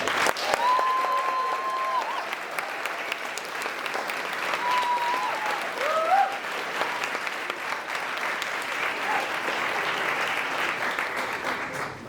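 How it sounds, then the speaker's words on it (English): An audience at a student global studies presentation gives Margie a long round of applause, a steady, even clapping that carries on for several seconds with a couple of faint whistle-like tones mixed in. "So I also want to take a minute and give a round of applause for Margie."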